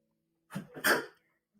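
A single sharp human sneeze, close and loud, set against silence with a short breathy lead-in before the burst.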